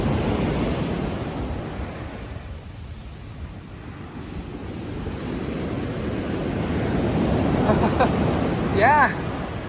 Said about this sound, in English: these waves are sneaky.